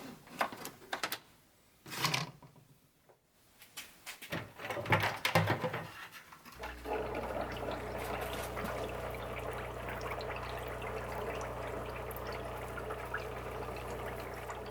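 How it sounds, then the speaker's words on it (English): An aquarium aerator bubbling and circulating a zinc plating solution, a steady soft gurgling hum that starts after some brief handling noises and continues evenly. "this is just an aerator for aquarium. And that'll circulate the zinc solution."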